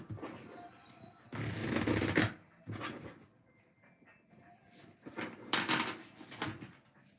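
Wellness cards are shuffled in two bursts of dense riffling and rustling, near and fairly loud, with quieter handling sounds between them and no talk.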